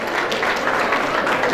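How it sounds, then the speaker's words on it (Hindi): Loud, continuous applause from a large audience for a patriotic dance team performing on stage at a cultural event, a thick unbroken wash of clapping. "एक बार जोरदार तालियां पूर्वी मध्य प्रदेश के लिए"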